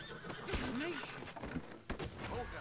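A horse whinnies and neighs in Red Dead Redemption 2 gameplay, a rising and falling cry near the start and a shorter one near the end, with hoof clip-clops and thuds amid excited talk.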